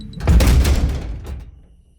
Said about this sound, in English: I bolted for it and slammed the door behind me, pressing my head to the wood.